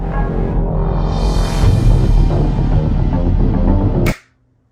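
A dense electronic music track plays loudly with thumping bass and bright synth layers, cutting off abruptly near the end.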